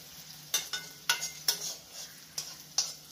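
Kaaturi vegetable pieces frying in a little oil with a steady low sizzle, broken by several sharp spatula scrapes and clinks against the pan at irregular intervals, close and fairly quiet.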